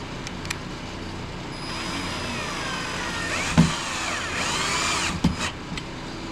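A power drill drives screws into the body of a Power Wheels Jeep being built and upgraded, running as a steady close whir with a few short bursts and clicks.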